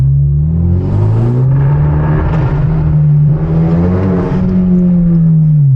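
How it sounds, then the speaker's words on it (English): A loud modified turbocharged car engine revving hard and continuously in a rev bomb, its pitch swelling up and easing back twice with a deep, throaty roar close by. "we're gonna rev bomb this shit right here"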